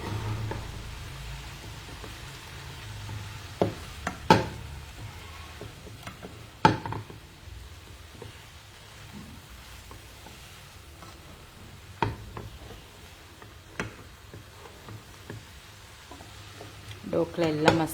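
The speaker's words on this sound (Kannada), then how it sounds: "ಇದನ್ನು ಹಾಕಿ ಚೆನ್ನಾಗಿ ಫ್ರೈ ಮಾಡಬೇಕು." Spices fry and get stirred in a pan, a soft steady sizzle broken by scattered clinks and scrapes of a utensil against the pan, with no voices.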